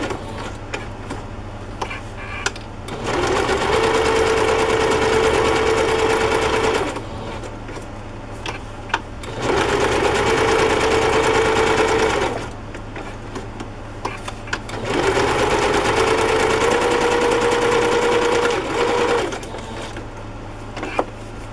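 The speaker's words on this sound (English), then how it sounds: "The zigzag stitch." A sewing machine stitches a zigzag seam on sewing tissue for handmade journal cards, running in three steady bursts of several seconds each with short pauses between, close and loud, with no talking.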